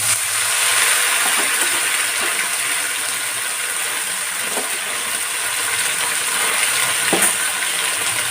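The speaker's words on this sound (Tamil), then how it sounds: "இந்த ஆயில் சூடானதெல்லாம் நம்ம இந்த வதக்கி வச்சுருக்குறோம்ல இந்த சிக்கனை இது எல்லாத்துலேயும் போட்டுருவோம்" Sautéed chicken pieces fry in hot oil for chicken pickle, a loud, steady, close sizzle with a few faint clinks and stirring scrapes, and no talk.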